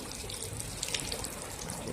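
Garden hose spraying a heavy stream of water over a Mountain Top pickup truck bed cover to imitate rain, making a steady hiss and splatter with brief louder bursts, no talk.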